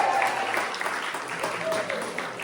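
An audience applauding storyteller Marianne at a storytelling event, a steady crowd clapping heard from within the room, with a host's voice over it.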